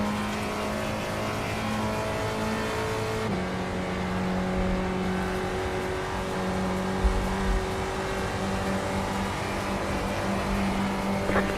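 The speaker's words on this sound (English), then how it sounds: "our engine sounds a little bit damaged" Damaged race car engine in a sim racing game, droning steadily with a rough, strained tone and a sudden pitch drop partway through, then continuing loud and close with faint tire noise and no talking.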